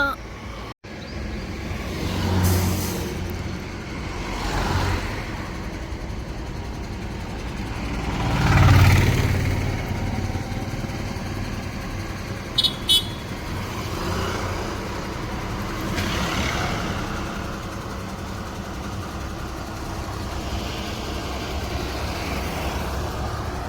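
A road vehicle out on a test drive rolls past outdoors, its engine hum swelling briefly mid-clip and then fading as it moves away, set against a low background rumble and faint distant voices.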